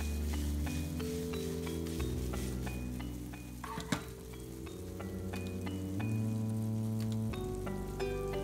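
Vegetable omelette sizzling under a lid in a frying pan, a steady close crackle and hiss with faint pops, no talking.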